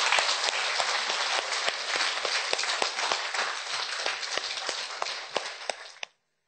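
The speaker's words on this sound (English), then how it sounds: "Bravo, applause." An audience gives dense, steady applause for about six seconds, with some sharper individual claps near the end, then it stops abruptly into silence.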